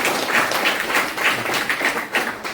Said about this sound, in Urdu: آج کے ہمارے مہمانوں کے لیے پھر سے ایک بار زوردار ان کا تالیوں سے استقبال کیا جائے۔